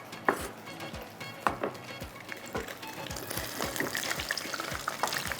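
Food frying in a pan for a chop that turns light golden brown and crisp, a steady close sizzle punctuated by regular soft knocks of the pan or utensil, fairly quiet overall.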